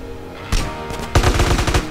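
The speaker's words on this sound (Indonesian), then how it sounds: "Kok banyak yang nembak, guys?" Gunfire from many shooters in the GTA San Andreas video game comes as two loud close bursts of rapid shots, the second longer and denser.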